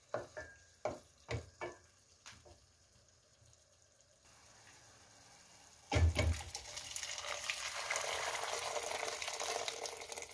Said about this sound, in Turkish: Şöyle göz kararı sıcak suyumu ilave ettim